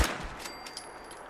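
Automatic gunfire in a video game, a spray-and-pray weapon firing in a rapid, fairly faint burst of shots across a busy game soundscape.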